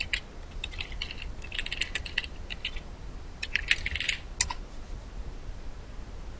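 Quick bursts of keystrokes on a computer keyboard as a search is typed, crisp and clicky with short pauses between runs, close and moderately loud with no talking.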